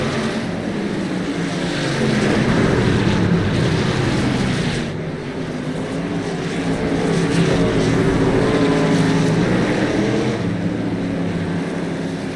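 Racing trucks in the NORA Truck Series at Naval Base Coronado drone past in a continuous engine roar, swelling and easing as the pack drag-races down the straight, heard from a distance with no talking.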